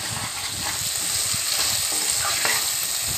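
Tomato pieces frying with masala and ginger garlic paste for egg biryani, a continuous close sizzle broken by soft scraping stirs, with no talking.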